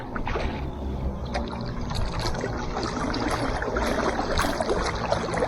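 A long touring kayak turns under a crossbow rudder paddle stroke at slow speed, with continuous soft water swishing and gurgling along the hull, close and steady, with no voices.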